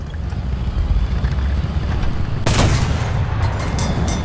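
A single loud, sharp cannon shot from an Sd.Kfz.221 armored car armed with the s.Pz.B.41 in the War Thunder video game breaks through a steady engine rumble.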